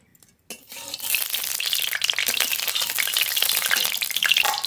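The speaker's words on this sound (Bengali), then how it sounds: "ইলিশ মাছের মাথাগুলো দিয়ে দেবো করে মাথাগুলো ভেজে নেব" Hilsa fish heads hit hot mustard oil in a pan, bursting into a loud, steady sizzle after a brief quiet start and frying on without pause, with no voices.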